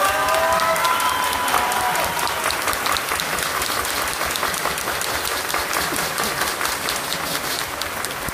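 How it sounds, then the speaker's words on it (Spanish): A crowd at an outdoor festival concert in Teoloyucan applauds and cheers for a performer, celebrating his 65-year career; loud, sustained clapping with some whistles and shouts, fading slightly toward the end. "Por favor, un aplauso para él."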